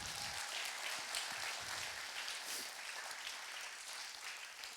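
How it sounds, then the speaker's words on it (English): Scattered applause from an audience at a youth gathering welcomes a speaker, a fairly quiet, distant patter of clapping that carries on steadily for a few seconds without speech. "Let's give him a round of applause."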